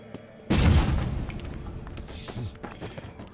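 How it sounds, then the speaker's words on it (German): A video game explosion in The Witcher 3 blasts an area apart: one sudden heavy boom with a rumbling tail, then scattered debris crashes and thuds as it dies away. "Wir sprengen das erstmal in die Luft."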